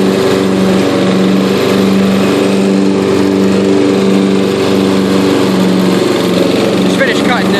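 A Yard King riding lawn mower's engine drones steadily while mowing grass, a loud, continuous close-up hum with a constant low tone and no breaks.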